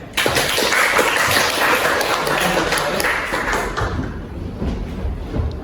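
Classroom applause for a student presenter at a vocational high school, a dense burst of many hands clapping close by that fades over a few seconds.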